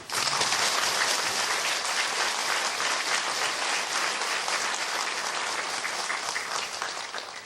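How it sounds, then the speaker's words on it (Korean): A church congregation at an installation ceremony applauds steadily, a thick, even wash of many hands sustained throughout. "모든 영광과 감사를 우리 하나님께 올려드리는 박수를 칩시다"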